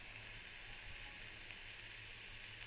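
Potato and aubergine fritters and papad fry in hot oil, giving a faint, steady sizzling hiss with a low hum underneath and no distinct pops.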